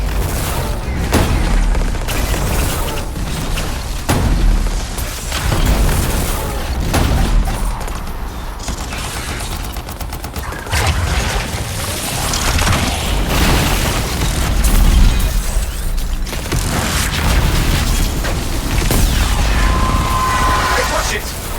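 Heavy gunfire and booming explosions in the game Anthem, sustained, loud low-end blasts and bursts piling over each other with mechanical clanks, continuing through most of the stretch with faint voices under the noise.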